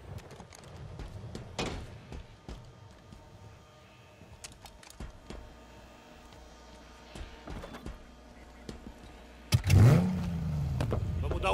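A vehicle engine in Halo Infinite fires up near the end, a loud rising rev with a sweeping pitch after scattered clicks and thuds of gameplay, with brief voices heard earlier.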